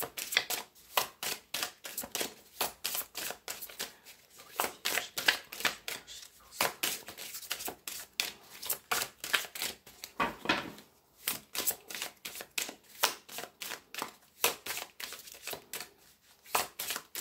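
A deck of tarot cards is shuffled and cut in a steady stream of crisp, rapid flicking riffles, close and clear, with a few brief pauses between bursts.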